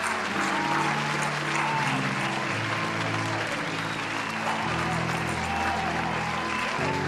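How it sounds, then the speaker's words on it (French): A church congregation claps and cheers for Jesus in a steady, dense wash of applause over sustained music. "Est-ce qu'on peut acclamer encore Jésus, s'il vous plaît?"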